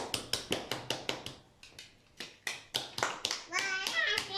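A short round of clapping, a few people applauding in quick steady claps, with a voice chiming in near the end.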